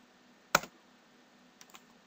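A few computer keyboard keys clicking: one sharp keystroke cluster, then a short pause and two quieter taps, close and isolated against a faint steady hum, as a password is typed.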